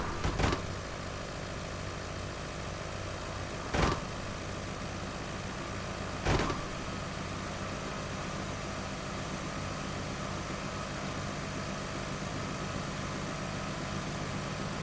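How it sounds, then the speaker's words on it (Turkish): Traffic car engines in the Car Parking Multiplayer mobile game hum in a steady, even idle throughout, broken by three brief sharp clicks spaced a few seconds apart. "trafikteki arabaların motor sesleri değişmiş"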